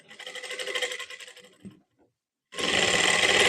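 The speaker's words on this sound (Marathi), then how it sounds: "प्रेस शिलाई करून घेते" An electric sewing machine stitches a blouse in close, loud bursts, running steadily for about a second and a half, pausing briefly in near silence, then starting again at full speed.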